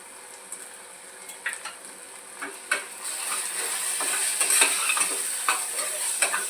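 Matar-batata bhaji with red chilli, garam masala and salt sautéed in a pan, a spoon scraping and clinking in irregular strokes over a soft sizzle that grows slightly louder toward the end.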